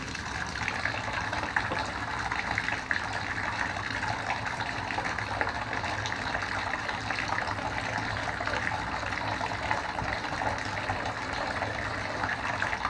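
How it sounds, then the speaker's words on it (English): Water pours steadily into a bathtub to flush a clogged shower drain, a continuous broad gushing rush of tap water filling the tub, close and even throughout with no voices. "I'm going to put a little water in the tub just to kind of flush it a little bit."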